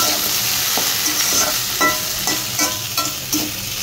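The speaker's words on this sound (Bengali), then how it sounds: "এই যে আমার ধনিয়া পাতাটা দিয়ে দিলাম, ভাজিটা হয়ে গেছে।" Vegetable bhaji with coriander leaves sizzles in a frying pan while a utensil stirs and scrapes through it, with several distinct clinks over a steady close sizzle and no talking.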